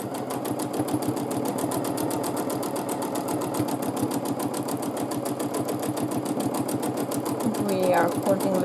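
A sewing machine doing free-motion quilting, stitching a daisy pattern, gives a steady rapid needle chatter that runs throughout at an even mid loudness, with a brief whistle-like tone near the end.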